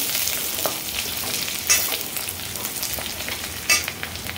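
Garlic with ginger-garlic paste frying golden brown in a pan for squid masala: a steady, close hiss of sizzling oil, broken by two sharp spatula scrapes.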